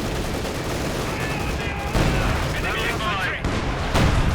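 Dense tank and field gun fire in Company of Heroes 2, with a KV-1, StuG, Panzer IV and H-35 in battle, heard as loud overlapping booms and crackling volleys with fresh blasts at intervals, under a commentator's voice.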